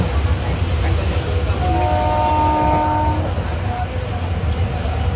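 Inside a crowded passenger train on the move, a steady low rumble fills the whole stretch, and a drawn-out horn sounds midway for about a second and a half.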